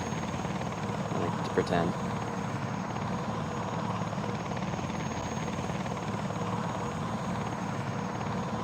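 A helicopter passes with a steady droning rotor and engine roar that holds fairly constant, a faint whistle on top, while someone talks briefly over it.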